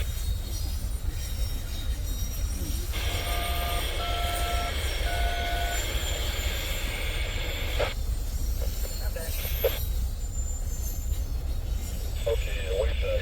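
A double-header freight train rumbles past a trackside spot in Berea, Ohio, with a loud continuous low roar and rolling wheel noise throughout, plus several sharp tonal beeps partway through.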